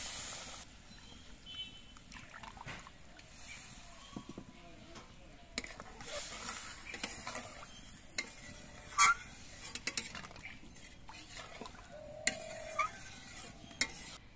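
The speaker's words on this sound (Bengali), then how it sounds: "সেই নারকেলের দুধটা দিয়ে কিন্তু আজকে আমি ঝোলটা দেবো," Coconut milk going into a pan of prawn curry masala, with soft intermittent stirring scrapes and light utensil clinks at a low level, no talk.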